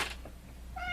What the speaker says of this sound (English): that's James meowing because he knows I'm filming a video